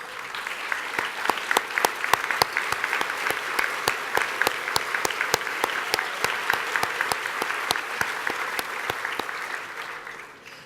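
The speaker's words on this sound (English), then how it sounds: "If you don't mind, if y'all could stand up so we can give you a round of applause," Sustained applause from a seated banquet audience at an awards dinner, dense and steady with sharp individual claps standing out, fading near the end.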